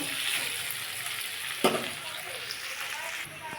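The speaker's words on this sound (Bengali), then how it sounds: "আমার আলুটা ভাজা হয়ে গেছে" Steady frying sizzle crackles throughout, with a brief louder clatter partway through as something shifts in the pan.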